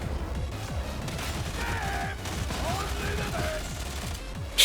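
Rapid gunfire from a Hive Scum build in Darktide, dense overlapping bursts and booms firing almost nonstop, loud and close, with a faint voice talking underneath.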